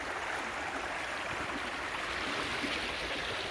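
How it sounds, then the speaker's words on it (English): A small creek flows steadily, a continuous broadband rush and trickle of water, close and even with no breaks, and no voices over it. "Nice little creek here."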